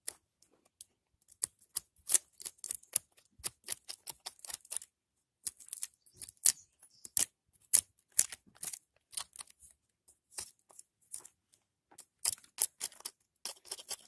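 Old bark being scraped off a tree trunk by hand in preparation for tape, heard as irregular dry, scratchy strokes and clicks, close and fairly quiet, with short pauses between bursts.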